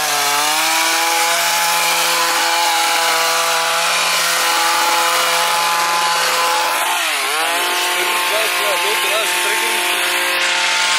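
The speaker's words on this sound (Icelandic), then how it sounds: "núna er hann búinn að saga alveg slatta" A circular power saw cutting in a home garden, a loud, sustained high-pitched whine with a harmonic buzz that dips and shifts in pitch midway as the blade bites, close and continuous.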